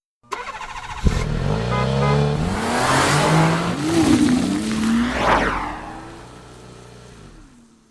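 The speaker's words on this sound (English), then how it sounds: "This is my 66 Plymouth Barracuda." A 1966 Plymouth Barracuda V8 starts with a sharp catch, then revs loudly up and down several times before settling toward a lower idle, close and with no talk.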